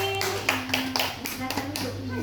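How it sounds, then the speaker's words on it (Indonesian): Classmates in a combined fifth and sixth grade classroom clap briefly for a fellow pupil, a short burst of distinct, rhythmic hand claps heard close with a low hum behind. "Tepuk tangan untuk Selvin."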